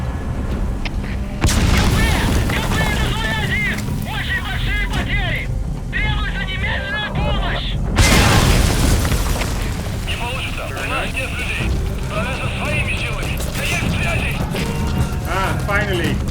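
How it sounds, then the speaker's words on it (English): Gunfire aimed at the player in Metal Gear Solid 5: The Phantom Pain, with loud booming bursts of shots and impacts amid continuous action noise while a voice talks over it. "Somebody is shooting at me."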